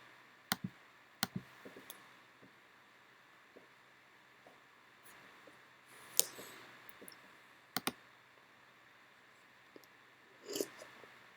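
Sparse clicks of keys on a computer keyboard as a name is typed, a few isolated taps and short bursts separated by pauses, quiet and close in a still room.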